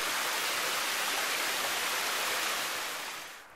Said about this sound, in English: you get to see this gorgeous waterfall in the spring